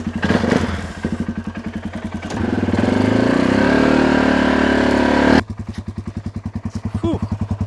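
A Polaris Sportsman 570 ATV engine running close by, with a steady rhythmic idle chug, a stretch of louder revving, then a return to the pulsing idle.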